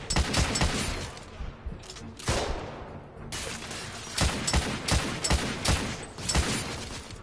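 Rifle fire in the game The Order: 1886, with repeated loud shots cracking in irregular bursts, dense overlapping volleys and short pauses, close and dominant with no talk over it.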